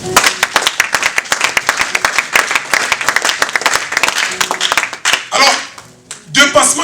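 A church congregation claps and applauds together at a Sunday worship service, loud and continuous for about five seconds, dipping briefly before a final burst of clapping.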